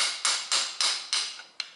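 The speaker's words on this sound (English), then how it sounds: "and then hammering." Hammering on a Toyota Corolla driveshaft during right-side replacement, six sharp metallic strikes in quick, fairly even succession, close and loud with no talk.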